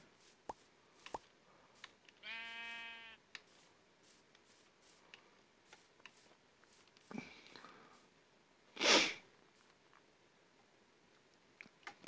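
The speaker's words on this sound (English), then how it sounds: "Sorry, I'm like sniffling in the thing here. Right into my microphone." Someone sniffles right into a close microphone while playing Minecraft, with one loud breathy sniff late on and a softer one earlier, set among quiet clicks, taps and a short buzzing tone.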